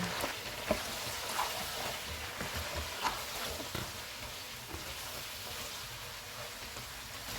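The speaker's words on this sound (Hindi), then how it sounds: "टू टेबलस्पून अदरक और लहसुन का पेस्ट डालेंगे। इनको 2 मिनट तक भूनेंगे।" Ginger-garlic paste fries in a pan as a steady, crackling sizzle, with a few sharper pops and stirring scrapes scattered across it, close and continuous with no talking.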